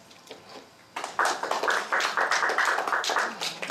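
A church congregation at an IFGF New York service bursts into applause for a donor after a quiet second, a steady crowd of hand claps with light rhythmic accents that continues to the end.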